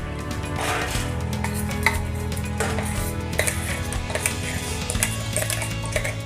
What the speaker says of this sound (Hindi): इसलिए हम इसे एक बार इस तरह से छान लेना होगा।